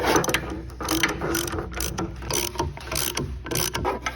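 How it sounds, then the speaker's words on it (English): A knockout punch cutter is tightened down to cut a hole through aluminum, giving loud, rapid mechanical ratcheting clicks and grinding in uneven bursts close to the listener. "I'm going to thread the cutter on here, tighten that down, and it will cut through the aluminum."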